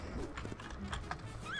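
A horse gallops in a Roblox Wild West game, rapid hoof clip-clops close by with a short whinny, steady and unbroken across the moment, with no speech.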